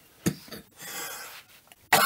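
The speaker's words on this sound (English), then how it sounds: "When I start talking a whole lot, I start coughing lately." A man coughs several times, short harsh bursts with a throat-clearing rasp between them, close and alone, the last cough loudest.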